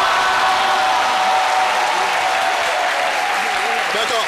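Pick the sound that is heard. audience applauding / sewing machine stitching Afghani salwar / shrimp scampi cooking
audience applauding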